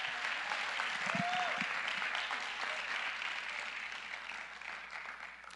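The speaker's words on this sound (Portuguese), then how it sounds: "Então, você pode celebrar Jesus com palmas?" A church congregation claps together in celebration during an evening service, the applause loud and dense at first, then gradually thinning and softening, with a brief voice rising over it early on.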